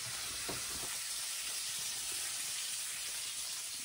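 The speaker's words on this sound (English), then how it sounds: "So now, guys, we start frying this one." Egg rolls fry in hot oil, giving a steady close sizzle and hiss with a few soft knocks near the start.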